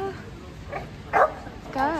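A Cavalier dog at a dog cafe lets out a few short yips and whimpering barks, close by, over a murmur of people chatting in the background.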